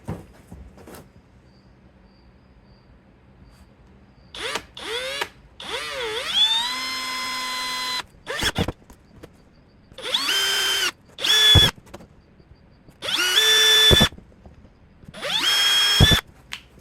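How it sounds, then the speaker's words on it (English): A power drill bores out bolt holes in a homemade exhaust gasket, running in several separate bursts of steady whining with short pauses between, close and fairly loud with no talking. "Now I'm going to try drilling out the bolt holes."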